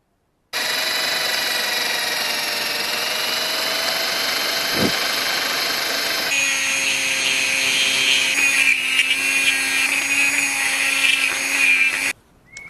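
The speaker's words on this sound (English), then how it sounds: "I managed to drill everything out." A power drill bores out a forged hidden tang knife blank in a workshop, a steady close whine that shifts pitch partway through and continues for about eleven seconds before cutting off.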